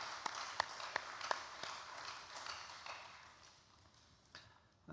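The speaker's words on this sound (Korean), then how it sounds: "오늘도 수고하신 우리 찬양대에 크게 감사의 박수만 합니다." A church congregation applauds the choir after its singing, a soft wash of clapping with several sharp individual claps early on, fading out over a few seconds.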